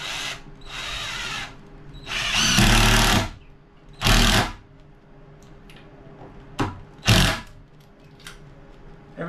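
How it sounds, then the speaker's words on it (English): A hammer drill drives screws into wood while building a rabbit hutch, several whirring bursts of varying length separated by quiet pauses, with short stop-start trigger pulls toward the end. "Ever since I got my first hammer drill"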